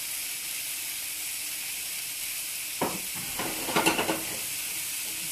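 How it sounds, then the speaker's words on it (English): Constant sizzling hiss of ground bison and curried vegetables frying in a pan, with a few sharp scrapes and clatters partway through. "Now we got some sizzle."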